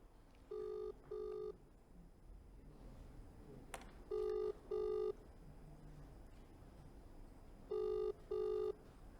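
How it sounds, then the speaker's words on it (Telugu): A phone line rings in three pairs of electronic tones with pauses between, heard faintly over quiet background hiss. "అఘోరీ ఫోన్ రింగ్ అవుతోంది"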